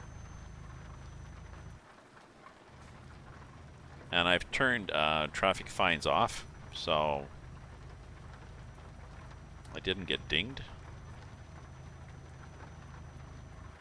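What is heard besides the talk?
rain in a truck driving video game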